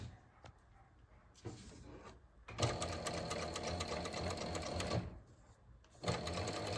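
A sewing machine stitches fabric for a three-size adjustable panty, running in bursts with short pauses, loud and close with a steady mechanical whir and rattle while the fabric is guided by hand.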